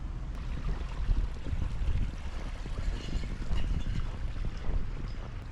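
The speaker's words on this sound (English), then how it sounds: "The waterfall didn't freeze" An unfrozen waterfall pours on a snowy winter day, a dense steady rushing roar with low rumble throughout, close and loud with no voices.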